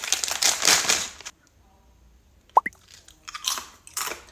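Crunchy garlic chips from a Tokyo Treat Halloween snack box are chewed close to the mic, a run of loud crisp crunches, a pause with a couple of sharp snaps, then more crunching.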